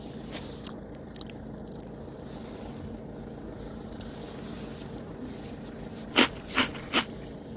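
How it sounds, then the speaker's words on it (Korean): Someone biting into and chewing a cookie at a Christmas gathering: three loud, crisp crunching bites close together near the end, following a quieter stretch of low room noise. "아, 진짜 쿠키. 먹어볼게요."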